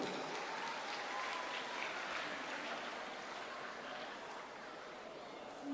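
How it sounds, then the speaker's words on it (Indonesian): Audience applause at the opening of an education fair in Badung, a steady, fairly faint wash of many hands clapping that continues evenly throughout. "Kita tepuk tangan dulu."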